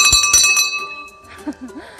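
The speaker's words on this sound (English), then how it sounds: "I'm just gonna ring this bell because I'm really fascinated over the bell." A temple bell in Nepal is struck twice in quick succession, each ring loud and close with a bright metallic tone that lingers and fades, followed by faint ambient chirps and murmurs.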